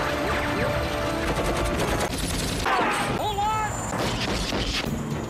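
Heavy gunfire in an action film scene as soldiers shoot at an escaping helicopter lifting off: dense bursts of automatic fire and booms mixed with a whirring rotor and mechanical clatter, loud and continuous, with a voice heard over the chaos.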